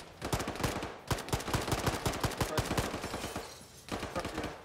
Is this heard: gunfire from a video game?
yes